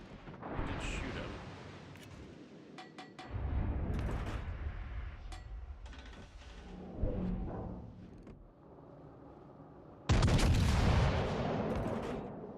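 Warship guns fire in a naval battle game against an Iowa and a Hood: several deep booming salvos with rumbling tails, the loudest near the end, while players talk intermittently over the action.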